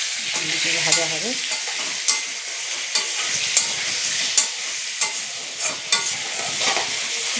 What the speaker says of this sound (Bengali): সুন্দর ভাজা হয়ে গেছে।